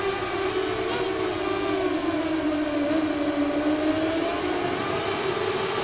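Racing motorcycle engines in the video game MotoGP 18 scream continuously at a high pitch, rising and falling slightly with no pauses, loud and steady with no talking.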